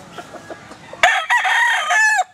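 A gamefowl rooster gives one loud, close crow lasting about a second, cutting in sharply after a soft stretch of faint background clucking and murmur.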